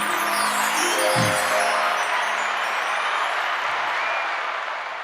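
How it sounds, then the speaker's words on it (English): A podcast audience in Baltimore claps together, a dense, steady wash of close applause that holds for several seconds and slowly thins toward the end. "Let's just clap it up for that."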